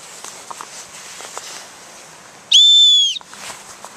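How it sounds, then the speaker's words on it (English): A small distress whistle built into a backpack sternum strap is blown once, giving a short, shrill, piercing tone of about half a second that stands out loudly against quiet outdoor rustling and footsteps. "Yeah, so I got a little distress whistle, if I need it, right there in my sternum strap."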